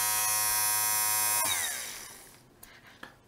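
A 12-volt electric motor driving a small pneumatic compressor runs with a steady high buzzing whine, then winds down over about a second into quiet, followed by a couple of faint clicks.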